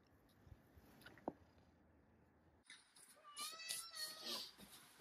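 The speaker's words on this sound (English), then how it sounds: "This is my neighbor's cat, but she's very friendly." A friendly domestic cat meows in a short run of high, wavering calls in the second half, close to the microphone, after a quieter stretch of faint background noise.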